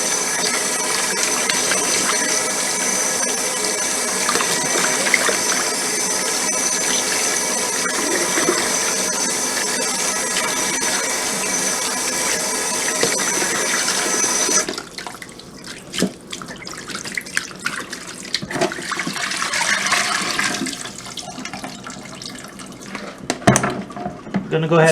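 Tap water runs steadily into a sink as a hassar fish is washed clean for a Guyanese curry, a continuous gush that breaks into splashing, intermittent pours near the end.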